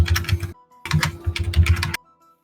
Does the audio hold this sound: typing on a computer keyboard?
yes